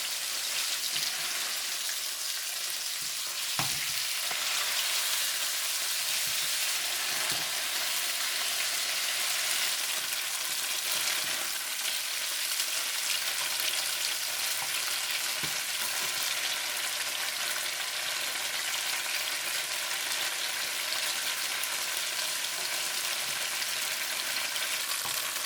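Soft tofu pieces fry and brown in a hot pan with a steady, even sizzle like rain, broken by a few faint clicks, with no talking.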